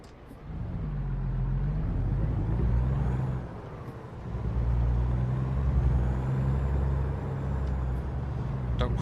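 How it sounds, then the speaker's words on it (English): A heavy American truck engine in American Truck Simulator rumbles steadily with low throaty tones, briefly dropping off before building again, with a faint hiss of air brakes. "About the American trucks, they do sound a lot beefier"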